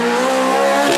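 A Ferrari 430 supercar engine howls past at a supercar weekend event, a loud, dense, high-pitched mechanical wail filling about a second, close and alone without voices.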